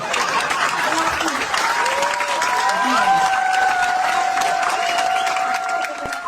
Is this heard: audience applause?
yes